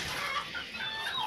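A hen clucks softly in a farmyard shed, a brief, faint run of murmuring calls with no voices.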